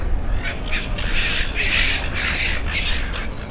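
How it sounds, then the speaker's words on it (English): Seagulls squawk and bicker in Federation Square, Melbourne, a run of harsh, repeated cries over a steady outdoor city hum, fairly close and with no talking. "Seagulls in the background."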